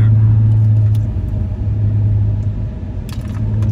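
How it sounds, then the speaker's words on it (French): A loud, steady low engine drone with a whining supercharger compressor hum, heard close up inside an Audi S5 V6T coupe, with faint clinks and rattles. "C'est énorme le bruit du compresseur."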